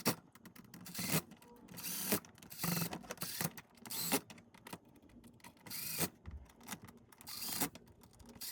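A screw is driven in to fasten the center console trim cover of a 2015 or later Honda Fit, heard as faint, close ratcheting and clicking bursts with quiet rubbing between them.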